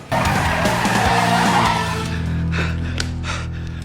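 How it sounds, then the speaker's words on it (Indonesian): A taxi speeds away with its tires skidding, giving a loud squeal and engine roar right at the start that eases into a steadier rumble. "Taksi pun melaju kencang."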